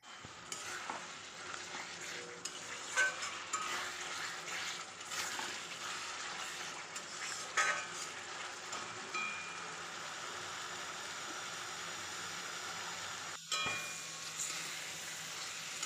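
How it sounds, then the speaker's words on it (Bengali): Potatoes being stirred and sautéed into spiced fish masala in oil, a steady close sizzle running throughout with scraping stirs of a spoon against the pan and scattered clinks. "এবার আলুগুলো দিয়ে এর সঙ্গে মিশিয়ে একটু কষিয়ে নেবো আবার"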